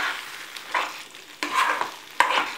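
A spoon stirs eggs into a thick, spicy masala gravy in a pan, making several distinct scraping strokes over a low bubbling sizzle, close and fairly loud, with no talking.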